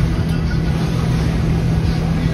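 A motorboat runs steadily toward an island in Croatia, its engine drone and hull rumble continuous and close, with wind buffeting the microphone throughout.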